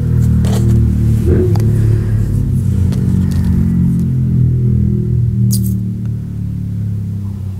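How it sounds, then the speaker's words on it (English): A loud motorcycle engine revs somewhere in the neighborhood, a heavy continuous low rumble with a swell of revving near the start that holds steady throughout, with no talking over it. "That's not those really loud motorcycles."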